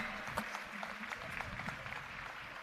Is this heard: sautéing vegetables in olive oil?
no